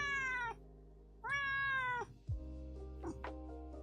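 Black cat meowing in a series of drawn-out, wavering cries, two long calls followed by shorter lower mews and a rustling thump, close and clear with no talking.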